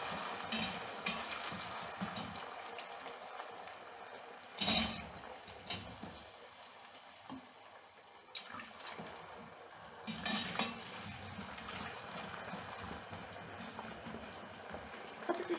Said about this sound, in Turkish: Patateslerimizi ilk önce yağda kızartacağız.